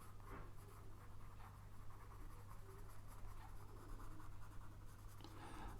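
Pencil shading a one-point perspective drawing, laying down smooth graduated tone with steady pressure: a continuous soft, close scratchy graphite rasp with faint stroke pulses, heard alone over a low steady hum.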